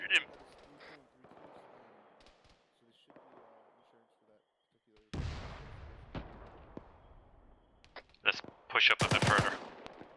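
Gunfire in a military video game: scattered shots early, then heavy bursts of automatic fire and sharp cracks late, mostly loud and close, with players talking over the shooting.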